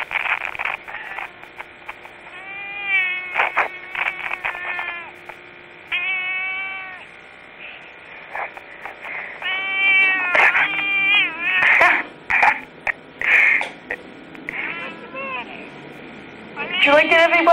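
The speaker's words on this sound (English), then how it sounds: "Here is a cat from hell." A cat yowls and meows repeatedly, drawn-out wavering caterwauls and shorter cries coming in bursts, loud and close on an old tape recording with background hiss.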